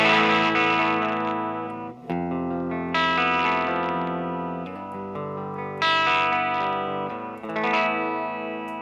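An electric guitar played through a Voltic Electronic Devices boutique fuzz pedal at low gain, near the edge of breakup, rings out in sustained, lightly gritty chords that are struck a few times and left to decay, with no voice.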